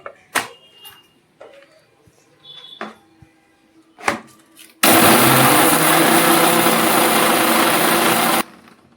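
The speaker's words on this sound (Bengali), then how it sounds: "শুকনো আগে গুঁড়িয়ে নিলাম" An electric grinder runs loud and steady for about four seconds, grinding dry mustard seeds with salt into powder for a hilsa mustard curry, after a few short kitchen clatters and knocks.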